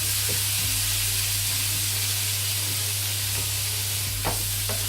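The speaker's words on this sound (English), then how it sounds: "I'm just going to put a drop of water in here because I don't want these onions to burn too much" Onions fry in a pan with a steady sizzling hiss as a splash of water goes in, with a few soft stirring clicks over the constant frying noise.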